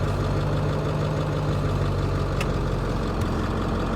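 A Ford 7.3 Powerstroke diesel idles after a tune change, holding a steady, loud low rumble near 700 RPM with an even clattering texture throughout.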